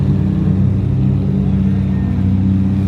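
Lamborghini Murcielago engine revving at a large car meet, a loud, steady deep rumble that fills the whole moment without pause.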